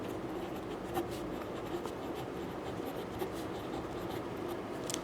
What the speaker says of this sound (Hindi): तो यहाँ लिखेंगे